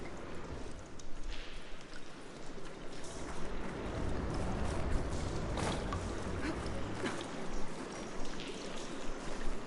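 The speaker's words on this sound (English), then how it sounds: "Aloy, I can hear water in the room again." Water running steadily inside an indoor room in Horizon Forbidden West, a soft continuous rushing and trickling wash at low level with no talk over it.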